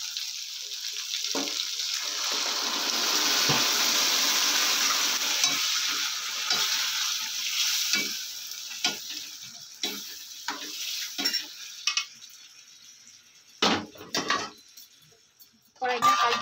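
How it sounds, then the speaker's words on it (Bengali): Dal is poured and stirred into fried spices in a pan, giving a loud, steady sizzle that fades after several seconds into scattered scraping, knocking and clattering of utensils against the pan. "মশলা কষানো হয়ে গেছে, আমি এবার ডালটা দিয়ে দেবো এর মধ্যে।"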